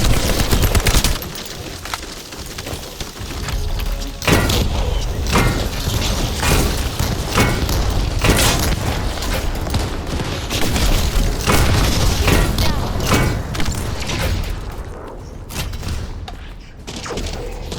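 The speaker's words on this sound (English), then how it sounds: "Time to try out Lord Corell's gift to me. This precision bomb." A precision bomb going off in the video game The First Descendant: deep booms erupt amid a constant wall of gunfire and mechanical clatter, loud and dense from start to finish.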